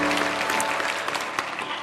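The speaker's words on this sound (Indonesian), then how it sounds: "beri tepuk tangan untuk mereka" A church congregation applauds during a sermon service, a dense, loud wash of clapping from a large crowd that tapers slightly toward the end.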